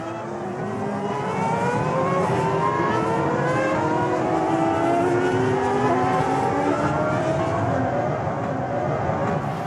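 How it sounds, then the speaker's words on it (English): Formula One cars at the 2008 night-time Singapore Grand Prix on a new street circuit, several engines screaming and revving at high pitch in continuous overlapping waves, loud and close throughout. "As the cars took their places, the excitement got a little too much for Piquet"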